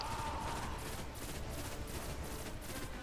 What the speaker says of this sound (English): He really likes firing his bolts at you.